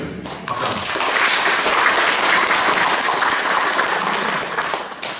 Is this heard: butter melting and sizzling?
no